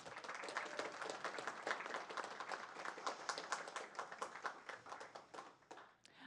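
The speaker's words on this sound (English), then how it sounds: "All right, one last round of applause." Sustained audience applause fills a school board of education meeting hall, dense and steady crowd clapping that tapers slightly near the end.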